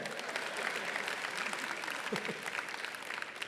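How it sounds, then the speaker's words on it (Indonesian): Audience applause at the Achmad Bakrie Award ceremony, clapping for the speaker's mother; a steady, fairly quiet round of many hands heard from a distance, with a faint voice briefly rising near the middle. "Tepuk tangan buat ibu saya"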